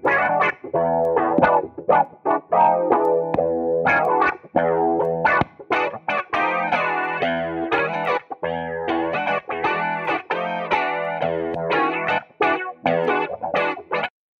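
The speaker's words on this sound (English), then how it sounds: "you will hear a distinct difference as you change the order of pedals, especially some things like distortion," Electric guitar played through a chain of Amplitube 4 software stomp pedals with heavy distortion and modulation, a loud, continuous stream of driven, harmonically rich chords and notes with no talking.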